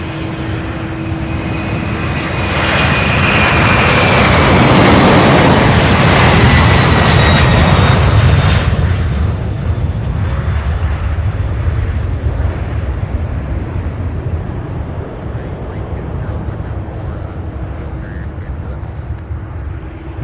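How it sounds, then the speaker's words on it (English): An MD-11 jet airliner moving on the ground at Louisville International Airport, a loud broad jet roar with a high whine that swells then slowly fades over about twenty seconds, heard from a distance outdoors. "Another MD-11 on the move."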